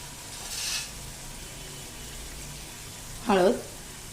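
Onion sautéing in a pan for a drumstick curry gives a faint, steady sizzle in the background, with a brief louder stir and a short voiced sound near the end.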